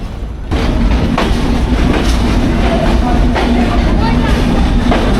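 Jahanabad Express passenger train in Bangladesh running after departing Noapara station at night, a loud steady rumble with repeated rhythmic clickety-clack wheel beats, heard from inside the carriage.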